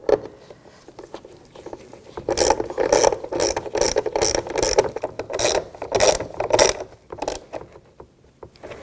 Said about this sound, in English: Take this module, line this up, put the screws in, and we'll snug this down.